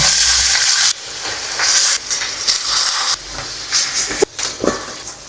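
Beef dropped into a hot pan with sautéed onions for beef asado, a loud close hissing sizzle broken by stirring clatters and brief pauses.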